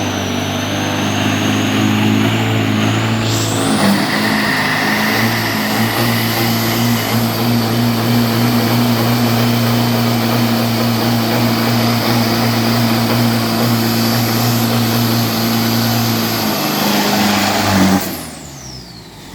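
A 2500cc Pro Diesel drag race car roars down a 402 m test run at the Khlong 5 drag strip, a loud sustained engine howl with a turbo whine, fading out sharply near the end as it passes.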